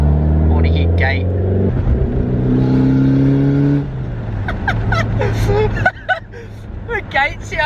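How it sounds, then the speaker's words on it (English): A Mitsubishi Evo fitted with a front pipe and a screamer dump pipe revs loudly and close by with a droning, rising tone, then settles as people talk over the engine. "The screamer sounds different because obviously it's not"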